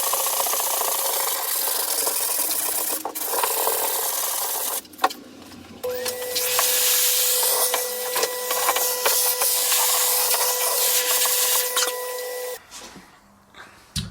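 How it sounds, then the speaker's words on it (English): A model railway platform top made of slabs is sanded for N gauge scenery, giving a steady, close scratchy rasp that runs almost continuously, broken by brief pauses and a faint sustained whine in the middle. "I'll just give this top a quick sand because there's a bit on these slabs which I'm not happy with"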